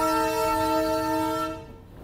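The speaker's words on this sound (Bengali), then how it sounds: "আবার দেখলাম হুইসেল মেরে ট্রেন এগিয়ে চললো কার্শিয়াং স্টেশনের দিকে।" Darjeeling toy train sounding a sustained whistle near the track on the run toward Kurseong, one steady harmonic-rich blast lasting over a second before cutting off, with no talk.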